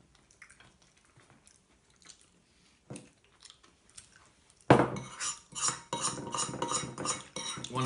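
A metal spoon clinks and scrapes against a bowl in short bursts, quiet at first, then louder, rapid scraping toward the end.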